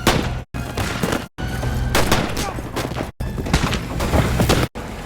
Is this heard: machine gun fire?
yes